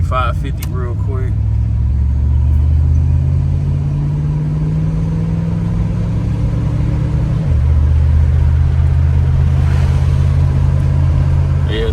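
A 1985 Chevrolet Monte Carlo engine pulls steadily as the car accelerates toward 45–50 mph, a loud continuous drone that climbs in pitch, drops briefly at a shift, then holds on, heard from inside the car.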